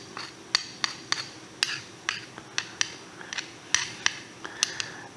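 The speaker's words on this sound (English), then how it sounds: "I'm just very gently scraping that." Gentle scraping on an old copper hinge with a patina, metal rather than wood, heard as a series of sharp, distinct scrapes and ticks at an irregular rhythm, close and fairly quiet, with no talking.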